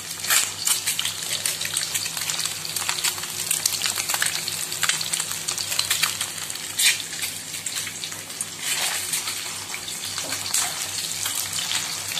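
An egg fries in a pan, giving a steady, fairly loud sizzle and hiss with faint crackles running throughout and no talking.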